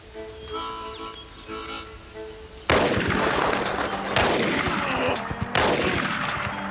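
Gunshots fired at game in a western drama crack out in loud, close bursts, three sharp blasts spaced a second or two apart, each trailing a rolling echo after a quieter stretch of low background.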